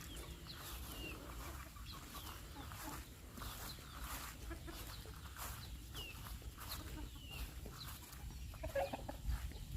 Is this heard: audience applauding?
no